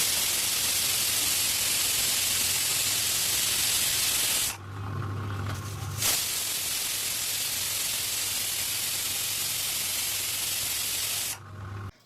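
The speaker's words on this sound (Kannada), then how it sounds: "ಕುಕ್ಕರ್ ಲಿಡ್ಡನ್ನು ಹಾಕಿ ಮೀಡಿಯಮ್ ಉರಿಯಲ್ಲಿ 2 ವಿಜಲ್ ಬರೋ ತನಕ ಬೇಯಿಸ್ಕೊಂಡ್ರೆ ಸಾಕು" Steam hisses steadily from a pressure cooker on a medium flame as egg biryani cooks, a loud continuous rush that cuts out briefly twice and then resumes, with no voices.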